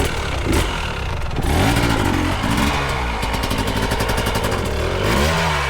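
A hard enduro motorcycle engine revs and labours while climbing steep terrain, rising and falling in pitch with bursts of throttle, loud and close throughout.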